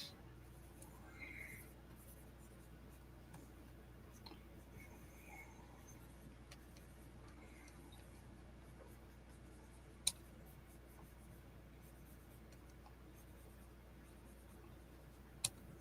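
A pen or pencil is drawn across paper by a comic artist, a faint steady scratching that runs under a low room hum, broken by a couple of sharp clicks.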